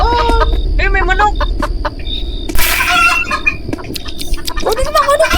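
Chickens in the Roblox horror game Consume, clucking and squawking repeatedly in short close bursts over a low background rumble, with players chattering alongside.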